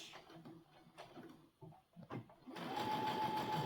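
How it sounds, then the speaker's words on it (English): A sewing machine stitches a seam on a Zorro cosplay duster, starting with a few short stuttering bursts and then settling into a steady, loud continuous run. "and sew your seam, keeping it parallel"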